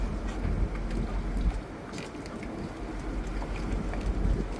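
A flatboat ride across the water from the beach gives a low, rumbling drone mixed with gusty wind buffeting the microphone, steady and close, with no talking.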